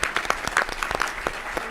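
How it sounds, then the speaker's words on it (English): Scattered applause from an audience at a gubernatorial candidate forum in Fresno, uneven claps and bursts over a murmuring room rather than a full dense ovation. "Can we give them another round of applause?"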